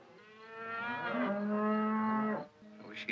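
Cattle lowing in a 1948 Western cattle drive: one long, drawn-out moo swelling loud and steady for about two seconds before breaking off, then a brief higher bawl.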